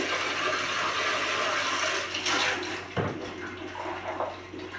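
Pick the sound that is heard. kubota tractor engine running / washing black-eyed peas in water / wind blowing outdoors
washing black-eyed peas in water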